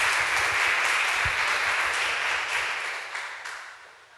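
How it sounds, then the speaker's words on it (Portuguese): Applause from a church congregation rings out as steady, dense clapping at moderate loudness, sustained throughout and gradually fading toward the end, with no speech over it. "Ele merece a salva de palmas do Senhor Jesus."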